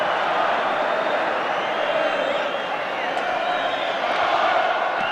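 A crowd of nearly 47,000 at Old Trafford for a 1985 FA Cup sixth-round match between Manchester United and West Ham, a constant distant roar with scattered shouts and whistles, steady throughout.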